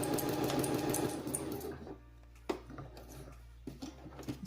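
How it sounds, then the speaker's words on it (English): A sewing machine stitches fabric in a fast, continuous whirring run up close, then drops to a quieter hum with a few short clicks and bursts of stitching. "lower your presser foot, begin to sew. You can increase your speed as you go."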